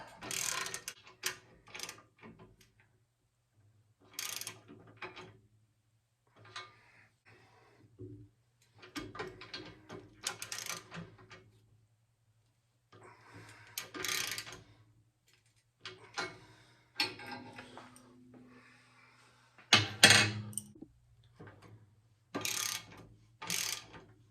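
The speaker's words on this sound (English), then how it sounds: "we're just using a threaded rod and a couple of" A threaded rod is cranked to press bearing cups into a 1942 Harley motorcycle frame, a series of close, crisp ratcheting clicks in short bursts separated by quiet pauses.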